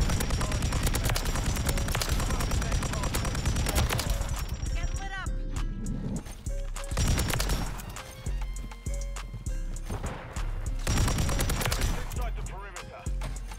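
Gunfire in Call of Duty MW3 with a Pulemyot 762 build, dense bursts of shots and explosions packed together loudly over game sounds, while a voice talks over the action.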